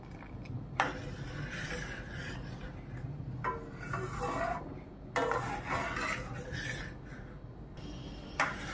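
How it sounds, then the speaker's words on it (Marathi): A spoon scrapes and clanks against a pot while caramelized milk for rabdi is stirred, producing intermittent rubbing strokes and metallic knocks at close range. "आपल्याला हे मिक्स करीत राहायचं, नाही तर आपलं दूध उतू जाईल।"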